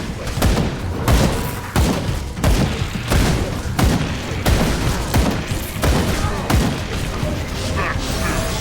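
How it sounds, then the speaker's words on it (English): Explosions in the video game Grim Dawn go off in a rapid series of booming blasts and thuds with crackling debris, loud and up close, over busy combat effects. "That explosion did nothing"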